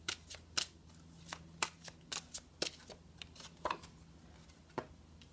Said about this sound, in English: I'm just going to go ahead and shuffle the cards and get another one out.